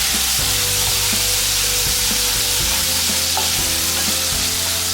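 Finely chopped tomatoes are stirred into hot oil in a pan while cooking a Maharashtrian stuffed tondali dish, making a loud, close, continuous sizzle broken by brisk scraping strokes of a spoon, with no voices.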